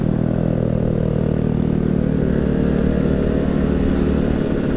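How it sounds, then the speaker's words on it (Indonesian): Suzuki F1ZR two-stroke motorcycle engine running steadily, a loud, buzzy, rattling drone at constant pitch heard up close, with no talking. "Dua tak itu tarikannya tuh lembut gitu bunyinya"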